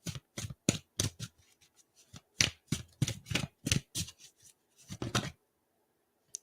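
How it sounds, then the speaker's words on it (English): Tarot cards are shuffled by hand in quick, crisp riffling bursts, about a dozen short flurries close to the mic separated by brief silences, with no voices. "let's pull some cards"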